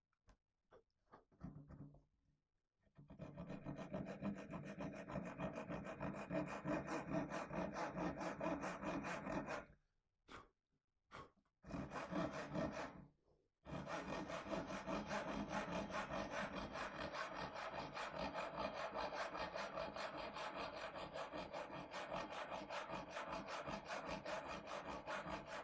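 A Japanese hand saw cuts through a wood plank in quick, rhythmic rasping strokes, starting with a few tentative pulls, pausing briefly, then sawing steadily and continuously up close.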